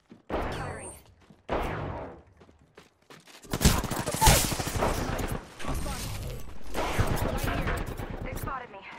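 Gunfire in a battle royale video game, a few short bursts followed by sustained loud shooting and explosive noise, close and heavy, mixed with some game voice lines.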